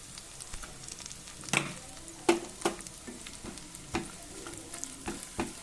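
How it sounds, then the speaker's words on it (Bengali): Ginger-garlic paste frying with spices in a pan for dhaba-style tadka, a soft continuous sizzle punctuated by regular knocks and scrapes of a spatula stirring against the pan. "খুব ভালো করে মশলাটাকে কষাতে হবে যতক্ষণ না আদা রসুনের কাঁচা গন্ধটা চলে যায়।"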